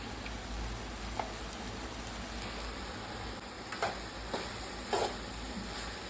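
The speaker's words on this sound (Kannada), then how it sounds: "ಅದು ತುಪ್ಪ ಎಲ್ಲ ಹಾಕಿ ಚಂದ ಒಂದು ಮಿಕ್ಸ್ ಮಾಡಿ" Homemade ghee sizzles in a pan as popcorn is stirred through it: a steady, close frying hiss with a few soft scraping clicks from the stirring.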